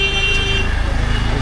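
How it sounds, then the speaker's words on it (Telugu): A car horn blares steadily for under a second amid rumbling traffic on a busy road in Ratnagiri, Maharashtra, with engine noise carrying on after the honk ends. "చూడండి అసలు ఎంత హార్న్ కొడుతున్నారు."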